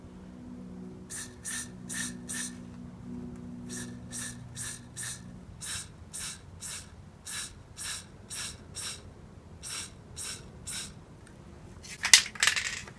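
Montana or Molotow spray paint cans hiss in a rapid series of short bursts of about half a second each, fairly close, with a faint low hum underneath and a sharp rattle near the end.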